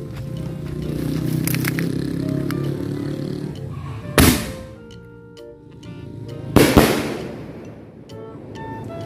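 Firecrackers set off outdoors, a steady hissing fizz broken by two loud sharp bangs a couple of seconds apart, close and prominent.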